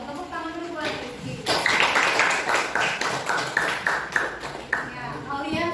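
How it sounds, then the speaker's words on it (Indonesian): A classroom of students claps for a classmate named Rizky. After a teacher speaks, a burst of irregular applause starts and continues fairly close, loud and steady with voices mixed in. "Tepuk tangan dulu buat Rizky."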